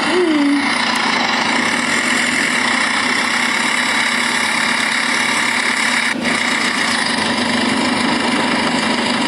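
A JCB digger's engine drones steadily and loudly in an Indian bike-driving 3D ramp game, a constant idling rumble running throughout with a brief dip near the middle.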